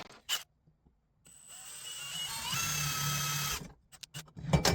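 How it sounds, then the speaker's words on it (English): A power drill bores a small perpendicular pilot hole in metal for a DIY moonshine still built from heater stands, a sustained whirring whine that rises in pitch midway, framed by brief handling clicks. "I'm going to drill a much smaller hole that's perpendicular, and that's going to act as a pilot hole"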